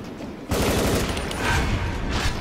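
Rapid gunfire in a video game, a dense rattling burst that starts abruptly and continues loud and close for about two seconds.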